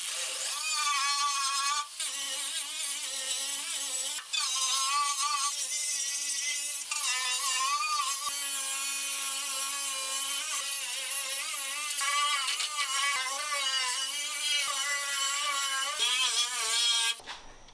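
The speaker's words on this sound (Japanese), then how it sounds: "ワイヤーブラシで塗装を剥離していきます。" A wire brush strips paint from the damaged side step of a Mazda RX-7 FD3S under restoration, giving a steady, loud, whining scrape that runs almost unbroken for about seventeen seconds before cutting off.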